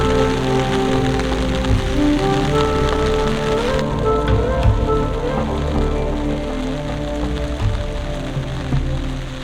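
Heavy rain pours down steadily on a mountain hike near Arrangkel in Pakistan's Neelum Valley. The downpour makes a dense, unbroken hiss, with nobody speaking.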